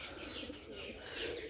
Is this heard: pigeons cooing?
yes